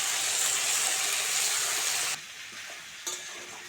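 Mixed vegetables fry in oil in a pan, giving a loud, close sizzle that drops off abruptly partway through, leaving quieter hiss and a brief clatter, with no voices.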